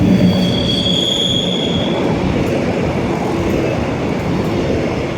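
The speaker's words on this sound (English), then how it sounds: "Is going to be another Renfe Talgo service." A Renfe Talgo train passes on the Mediterranean Corridor line at Salou in Spain. A loud, steady rail roar with a high wheel squeal runs throughout, close by, and no one speaks.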